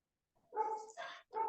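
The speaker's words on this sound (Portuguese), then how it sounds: "os cachorros do vizinho começaram a querer latir bem agora" The neighbour's dogs bark faintly from a distance, two or three quick yips and barks in a short burst.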